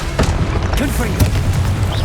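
A loud, close Confringo blasting spell explosion in the video game Hogwarts Legacy, a heavy boom amid continuous dense combat noise.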